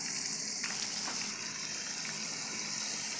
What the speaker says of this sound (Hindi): तेल में अब हम मछली फ्राई करेंगे जो कल हमने मैरिनेट करके रखी थी।